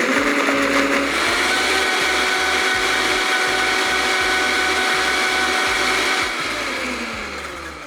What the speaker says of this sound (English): We're gonna blend this up.